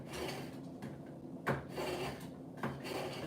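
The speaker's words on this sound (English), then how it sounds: "sharpen this knife" A kitchen knife is sharpened with repeated rasping, scraping strokes, several in a row at an uneven rhythm, close up and fairly quiet with no talking.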